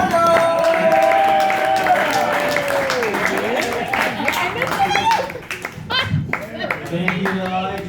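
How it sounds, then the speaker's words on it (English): Energetic audience clapping and applause at a comedy showcase as comedian Mike Pardo takes the stage, steady loud hand claps with crowd voices and cheering layered on top, thinning toward the end. "Start clapping your hands right now"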